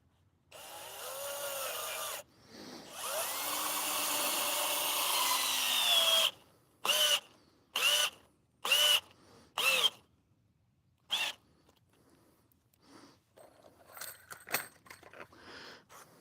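A power drill drives long screws into wood in a garden project. It whines in long runs, then gives several short bursts, and the work ends with fainter handling clatter.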